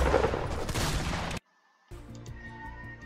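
Dense rapid gunfire from a Fortnite match, loud and continuous for over a second, then a sudden cut to near silence before quieter game sounds with faint sporadic shots return.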